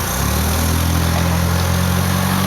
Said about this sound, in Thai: เมื่อตรงแล้วก็เหยียบคันเร่ง